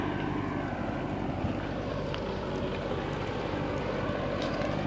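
A Kubota MU 5502 four-wheel-drive tractor pulls a 3MB plough through a field. Its engine drones loudly and steadily for the whole stretch over broad, rumbling noise, and no one speaks.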